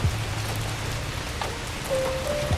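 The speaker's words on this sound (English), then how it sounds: "The rain will keep falling whether you watch it or not." Rain streams against the window of a Trans-Siberian night train, a soft, even patter with faint low tones and no voices.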